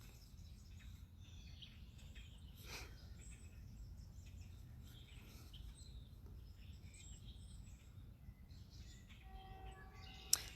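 Birds sing outdoors in spring, with scattered faint chirps and calls at a distance over quiet low background noise and a sharp nearer chirp at the very end.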